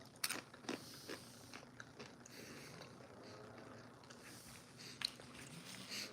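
Someone chewing food close to the microphone, with short crunchy bites and soft mouth sounds over about six seconds at a low level, no talking.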